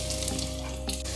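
Onions and tomatoes sauté in oil left from frying fish, with curry leaves in the pan, a dense continuous sizzle heard up close with brief stirring scrapes and no voices.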